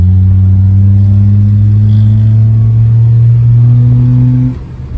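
Hyundai Santro fitted with a 2011 Daihatsu Mira automatic engine revs loudly and steadily on a test drive, a sustained rising drone that holds for over four seconds before dropping away.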